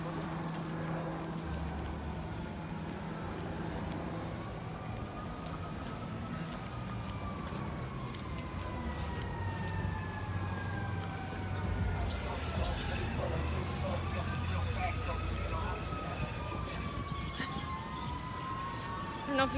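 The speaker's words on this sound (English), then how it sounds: "I don't know if you guys can hear all those sirens, but they just keep coming." Multiple fire engine and emergency vehicle sirens wail at a fire on University Avenue in Saint Paul, overlapping rising and falling tones at a distance over low traffic rumble, with people talking intermittently.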